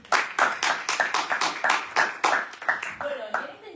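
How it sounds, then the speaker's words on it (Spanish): Applause from an audience at a book presentation for a novel, a modest group clapping in steady bursts that ends after about three seconds, with a voice faintly audible beneath it. "Un aplauso."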